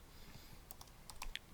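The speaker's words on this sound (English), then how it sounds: "typing on the chat" A short, quick burst of typing on a computer keyboard, with a handful of close, crisp key clicks clustered near the end, heard alone against a quiet background.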